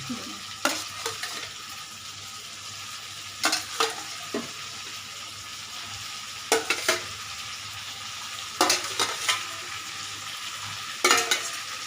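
Prawns frying in hot oil in a pan, a low continuous sizzle punctuated every couple of seconds by short clusters of spatula scrapes and taps against the pan.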